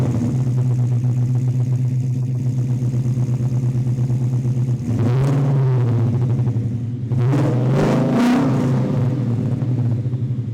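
A 1968 Ford Mustang fitted with a Coyote 5.0-litre V8 rumbles at a steady idle close by, then blips its throttle a few times in a low, loud growl, with no talk.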